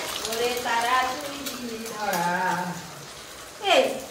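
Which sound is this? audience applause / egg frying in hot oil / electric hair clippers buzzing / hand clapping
egg frying in hot oil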